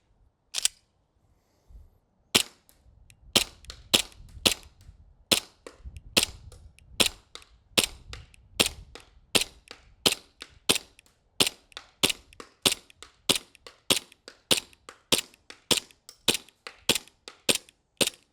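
An airsoft Glock pistol fires a full magazine, roughly thirty sharp, snappy shots, first spaced out and then in a quicker, fairly even string, each crack loud and close against near silence.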